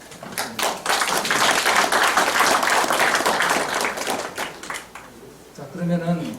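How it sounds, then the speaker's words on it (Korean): Audience clapping at a Korean history lecture on Goguryeo, a burst of claps building and holding for several seconds before fading, with a voice speaking at the end. "박수 한번."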